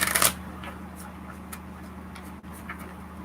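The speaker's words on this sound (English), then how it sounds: "shuffle the deck, right?" A deck of tarot cards is shuffled during an early-morning reading. A brief, crisp riffle comes right at the start, followed by faint, soft handling noises over a steady low hum.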